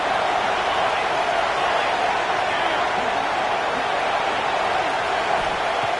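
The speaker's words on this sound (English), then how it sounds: "And here comes the noise. This crowd is trying to inspire this defense to make a big red zone stop." Stadium crowd roaring in a college football video game, Georgia against Texas, a dense continuous wash of noise at steady loudness throughout, no distinct voices.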